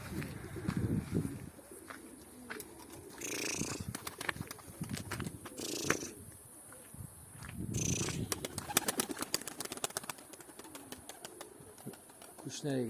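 Pigeons coo in low, soft, repeated rumbles, with fluttering and scuffling sounds and some faint talking in the background.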